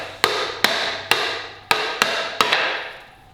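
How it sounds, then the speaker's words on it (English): A paddle shaft is whacked hard against a common 2x4 board six times, each blow a sharp, loud, close crack with a short ringing decay, spaced about half a second apart. "you can see I just whacked it on a 2x4 pretty good"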